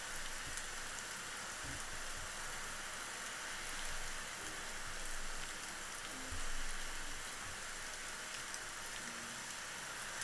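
Steady rain falls in the Rising World video game, a constant soft hiss with faint scattered drops, continuous and even throughout.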